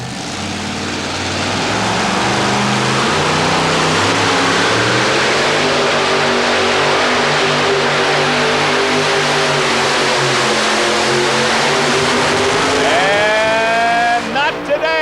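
A 650 cubic inch Chevrolet engine in a two-wheel-drive pulling truck roars continuously through an indoor truck pull run, loud and sustained with a throbbing low note, heard from the arena.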